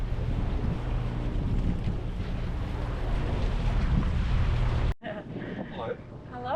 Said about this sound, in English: excuse the engine noise in the background